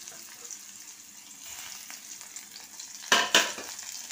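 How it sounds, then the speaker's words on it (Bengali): Onion and green chili fry in oil in a wok with a soft, steady sizzle, then two sharp, louder hissing bursts near the end as they are stirred. "কড়াই বসিয়েছি, কড়াইতে তেল দিয়েছি। ওতে আমি দেবো হাফ পেঁয়াজ, অল্প একটুখানি পেঁয়াজ, একটু কাঁচা লঙ্কা"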